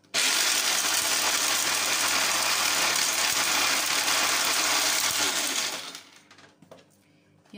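A loud blender grinds dried onion peel steadily at high speed for several seconds, then winds down and stops, leaving a few faint clicks and rattles.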